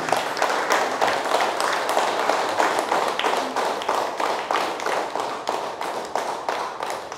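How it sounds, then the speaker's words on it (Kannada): An audience claps for Smt. Amrutha, a guest speaker at a Kannada class session, in steady, rapid applause that holds at an even level throughout, with no talk over it. "ಅವ್ರಿಗೆ ಜೋರಾಗಿ ಒಂದು ಸಲ ಚಪ್ಪಾಳೆ ಹೊಡೆಯೋಣ"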